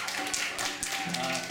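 An audience at a stand-up joke-telling show claps in a steady, dense burst of applause that lasts the whole short stretch, with a faint voice mixed in.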